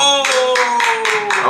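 A few hands clapping in rhythmic bursts during a livestream, short repeated claps over a steady tonal background hum.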